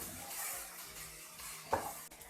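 Onions frying with cumin in a pan for a fish curry give a soft, steady sizzle, with a single utensil clink against the pan near the end.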